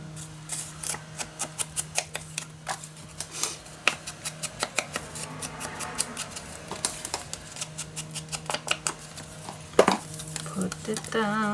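Scissors snipping through paper while assembling a steampunk-style dos-a-dos mini album, a steady run of short crisp cuts close by, with a few louder clacks and a low steady hum underneath.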